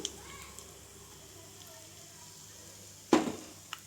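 Curry leaves, mustard seeds, urad dal and chana dal tempering in hot oil for a wood apple chutney: a quiet kitchen background broken by one loud, sharp sizzling burst near the end that quickly fades, with a small crackle after.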